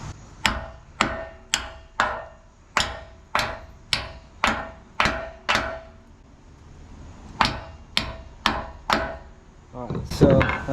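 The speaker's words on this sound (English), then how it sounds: "I'm going to try to hammer them out and see if we have any luck with that." A hammer strikes bolts on the rear axle of a Bumpside 4x4 Ford truck in a steady run of about ten sharp metallic blows. After a short pause a few more hits follow, ending in a scraping clatter.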